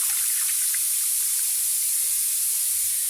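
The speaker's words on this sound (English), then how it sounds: "I'm going to get some more water. Put it there." Water is poured into a pot of corned beef, a steady hissing flow that stays even throughout, with no talk over it.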